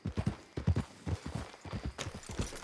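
Horses' hooves clip-clop on a road in Red Dead Redemption 2, a brisk irregular run of close, thudding hoofbeats with brief gaps between clusters.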